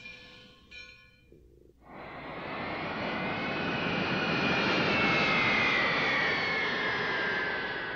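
After a short lull, an airplane engine roars up and builds into a loud, sustained jet-like drone that holds steady to the end, with no voices.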